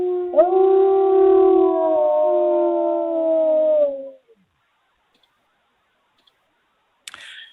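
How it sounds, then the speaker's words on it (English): A dog howls alone in one long sustained, wavering note lasting about four seconds, loud and close, followed by near silence and a faint click at the end. "So obviously it's Grayson, the one who's over there howling."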